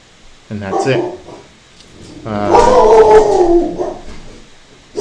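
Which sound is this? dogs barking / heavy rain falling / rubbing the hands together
dogs barking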